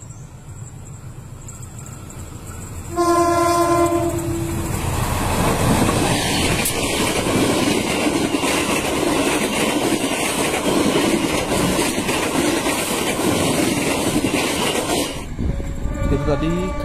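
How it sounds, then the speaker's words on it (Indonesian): A passenger train, the Matarmaja, sounds its horn briefly, then roars close by with rumbling, clattering wheels and a faint squeal before it fades. "Sekarang kita lihat dulu kereta api yang mau melintas ya."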